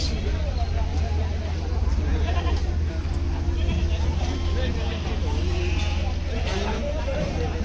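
Goats bleat amid the steady din of a busy livestock market in Narketpally, the calls rising over constant crowd chatter and a low vehicle hum throughout.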